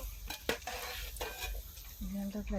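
Chicken pieces frying in hot oil during a village outdoor cooking session, with steady sizzling broken by sharp stirring clatters and scraping of a utensil against the pan.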